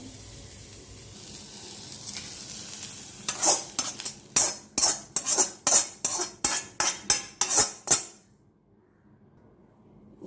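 Green chillies and sweet potato sautéing in a pan, with about a dozen sharp, rhythmic scraping strokes of a spoon against the pan over a soft background sizzle, then the stirring stops abruptly and the sizzle fades to quiet.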